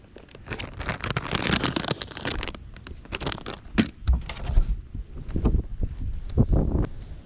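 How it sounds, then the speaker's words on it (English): Gusty wind buffets the microphone in rough, uneven bursts while bass fishing outdoors, with a rustling, pattering texture and no clear voices. "it's super windy to be throwing a drop shot too"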